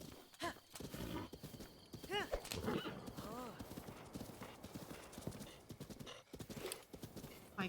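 Horse hooves clip-clop steadily while a horse neighs and whinnies several times in The Legend of Zelda: Breath of the Wild, loud and close, with a player's voice talking over the game sound.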